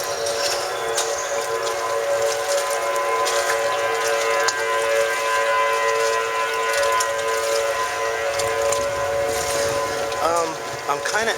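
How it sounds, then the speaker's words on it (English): Tornado warning sirens wail across downtown Minneapolis near the Mississippi River, a sustained rising and falling tone carried over city background noise throughout. "the tornado sirens just started going off"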